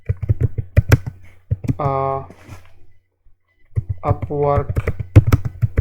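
Quick keystroke clicks on a computer keyboard while typing into ChatGPT, scattered under and between a man's close, clear speech, with a short quiet pause in the middle.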